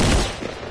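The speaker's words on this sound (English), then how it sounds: "Why are you shooting me?" A short, loud burst of rapid video game gunfire cracks out, then quickly tails off.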